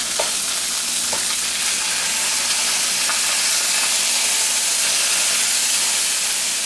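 Pork chops sizzling in a pan just after being turned, a loud, continuous hissing fry heard up close, with a few faint clinks and pops scattered through the steady crackle.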